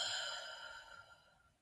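A single soft, deep exhale during a guided breathing exercise, heard alone and fading gently over about a second and a half.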